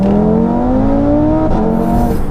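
A turbocharged Audi RS3 engine, tuned to 740 bhp, roars loudly as it accelerates hard, its pitch climbing steadily, then dropping briefly at a gear change before climbing again.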